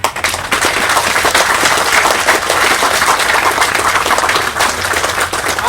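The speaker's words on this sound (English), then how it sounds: "We all deserve a round of applause for each other." An audience at an emergency response ceremony applauds in a loud, sustained wash of clapping that continues steadily throughout, with no talk.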